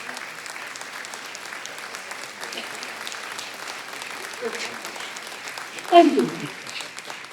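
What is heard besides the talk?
town meeting audience applause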